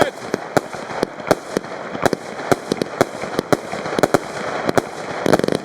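A 20 mm fireworks cake, a Metal Box PXC220, fires a rapid series of sharp angled dark-gold shots at irregular intervals over a hissing background, ending in a quick crackling burst.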